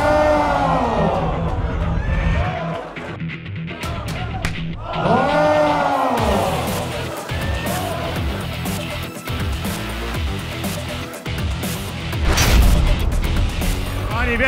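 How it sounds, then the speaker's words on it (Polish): Crowd at a PUNCHDOWN slap-style punching competition claps and cheers for a fighter in a black shirt, with loud sustained applause mixed with voices and a booming announcer-like voice sweeping over it, plus occasional thuds. "Zawodnik w czarnej koszulce, przybijcie brawa"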